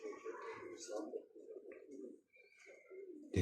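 Racing pigeons coo at a pigeon club in Xırdalan, a low soft burbling that runs beneath steady nearby conversation throughout.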